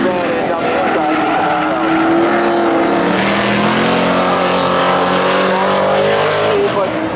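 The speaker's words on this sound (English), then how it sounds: "Blazer on the outside, Camaro on the inside, away they go." Two cars, a Chevrolet Blazer and a Camaro, launch side by side at a spectator drag race event, loud engines roaring and rising in pitch as they pull away, with an announcer talking over the noise throughout.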